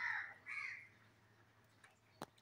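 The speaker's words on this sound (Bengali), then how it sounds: "পাখির ডাক কাকে ডাকে" A crow caws twice outdoors at dawn, fairly faint and somewhat distant, over quiet background with a small click near the end.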